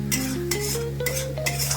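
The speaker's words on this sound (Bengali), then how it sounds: "মশলাটা দিয়ে তেল ছাড়তে শুরু করেছে" A spice paste sizzles in oil as it is stirred for a Bengali bhetki fish curry, the spatula scraping the pan in four distinct strokes over soft music.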